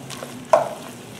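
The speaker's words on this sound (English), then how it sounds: "So just going to stir that around, get mixed in with that butter, these onions." Onions in butter are stirred in a pan, giving a short scrape and a soft, close sizzle over a low frying hiss.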